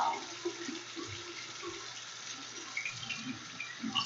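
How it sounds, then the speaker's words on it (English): Running tap water pours steadily over hands being washed at a sink, a soft continuous splashing stream that holds fairly even throughout with small surges of hand movement. "So I'm washing my hands again."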